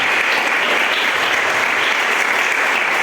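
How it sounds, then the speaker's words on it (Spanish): A church congregation claps together in praise during a sermon, a loud, dense and sustained burst of applause filling the room without a break, with no talking over it. "Denle una ofrenda de palmas al Señor."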